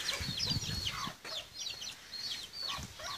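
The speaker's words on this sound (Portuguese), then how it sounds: "Tem as galinhas." Backyard chickens on a rural homestead clucking and chirping in quick overlapping calls, close and fairly loud, with no talking over them.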